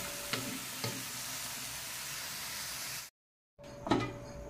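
Squash sautéing in a pan: a steady, quiet sizzle with a few soft stirring clicks, cut off briefly to silence before resuming with another scrape.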